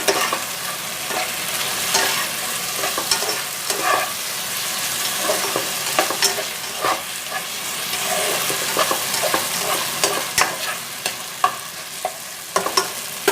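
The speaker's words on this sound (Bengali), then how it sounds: "এবার সয়া সস দিয়ে এটাকে একটু নাড়িয়ে নেব" Masala pasta with soy sauce being stirred in a hot pan, a steady sizzle broken by repeated scraping and tossing clatters of a spatula, close and without voices.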